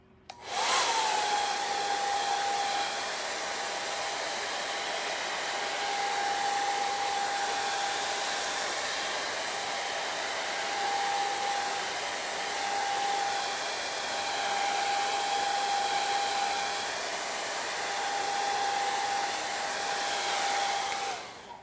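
A hair dryer blowing over wet acrylic paint on a canvas, a continuous close whooshing roar with a steady whine, running for about twenty seconds before switching off.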